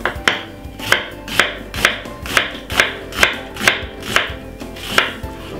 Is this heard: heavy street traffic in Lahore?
no